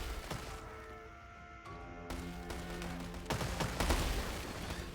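In a video game, massed hand cannons bombard an armored car, ragged volleys of gunfire and crashing impacts rolling over one another, louder and denser toward the end, over a droning game backdrop.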